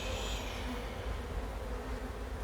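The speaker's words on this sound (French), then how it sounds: "Il y a beaucoup d'abeilles." Many honey bees swarm around an open spring beehive, a dense continuous buzz that fills the air close by, with no voices.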